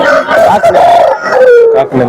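A rooster crows at the Bangarpet breed-fowl market, one loud, strained call close by with faint market noise behind it.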